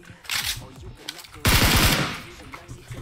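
Gunfire in PUBG Mobile: a light burst early, then a loud rapid automatic volley crackling for about half a second midway, with faint game noise around it and no speech.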